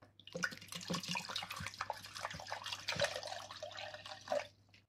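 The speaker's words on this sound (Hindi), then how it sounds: "इस केटल में मैं पानी भर के और फिर मैं उस पर हीटर पर रख दूँगा" Water runs from a tap into an electric kettle in a 5-star Grand Hyatt Mumbai hotel room, a steady close splashing flow with small drips and gurgles.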